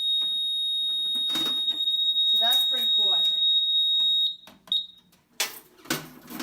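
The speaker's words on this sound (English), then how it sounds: "and then the panel would beep" A steady, high-pitched electronic beep from an FCI FC 2224 fire alarm control panel runs continuously, then stops; someone speaks over it and briefly afterward.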